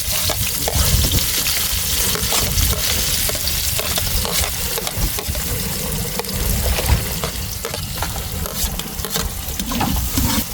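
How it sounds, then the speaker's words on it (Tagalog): Fish fry in hot cooking oil with a loud, continuous crackling sizzle and popping spatter that holds steady throughout, close up and without talk. "Lakaan lang natin yung pritong isda."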